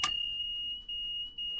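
A steady high-pitched electronic warning tone in the train video game Train Sim World 2 beeps on and off, sharp and continuous with brief gaps.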